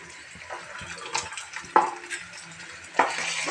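Ginger paste fries quietly in a pan, a soft sizzle broken by a couple of sharp scrapes and clinks as it is stirred.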